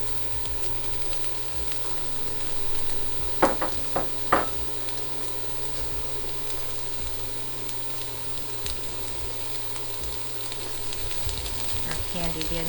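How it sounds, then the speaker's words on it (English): Peppers and onions sizzle steadily in a skillet, a constant close frying hiss with a few sharp clatters of stirring early on. "we're going to add in our peppers, get those going, and our onions as well"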